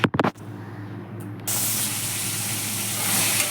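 Prawns dropped into hot oil in a pan: a few quick knocks, then a sudden loud, steady hiss of spitting oil that holds and swells slightly over about two seconds.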